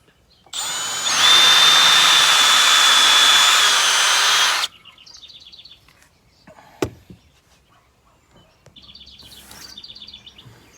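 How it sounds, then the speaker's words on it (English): A power drill whines steadily for about four seconds while pre-drilling a hole in an aluminum deck railing post, loud and close, followed by a sharp knock and quiet birdsong in the background. "Again, I'm checking for square, and then I'll drill the other one."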